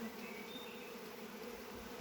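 Honey bees buzz steadily at a beehive during April hive care, a dense, continuous hum close by with no voices over it.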